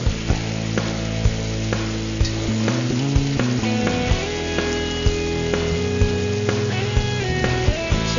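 Cioppino base simmering and sizzling in a pan, a steady close bubbling crackle with occasional sharp ticks of a utensil, no voices.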